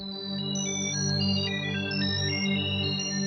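Twinkle sound patch on a Predator-3 synthesizer: bright, high, stepping arpeggiated tones sparkle over a steady sustained chord pad, a continuous and even-level texture.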